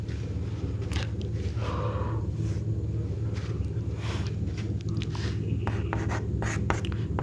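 Chemistry notes being written by hand on a board, with a run of scratchy pen or chalk strokes in short bursts over a low steady hum, close and fairly quiet.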